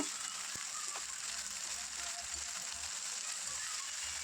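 Ivy gourd sizzles in hot oil with mustard seeds and curry leaves: a constant dense close frying hiss with a few faint clicks and taps, and no talking.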